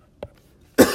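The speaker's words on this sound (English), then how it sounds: "Sorry with that coughing." A single person coughs twice, a brief muffled cough followed a moment later by a loud, harsh, close cough, with near silence between.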